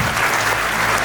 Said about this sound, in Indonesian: Tepuk tangan untuk yang sudah pernah datang.